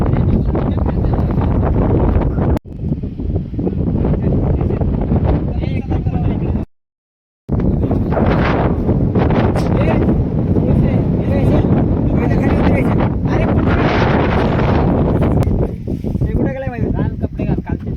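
Strong wind at Malang Gad fort buffeting the microphone in a loud, continuous roar with brief drops, while people talk over it.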